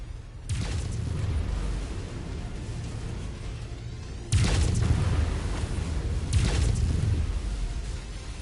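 Backup generators blowing up in MechWarrior 5, a series of heavy booming blasts, one sharp near explosion followed by rumbling, then a louder second blast and another boom, each trailing into low debris rumble, no speech.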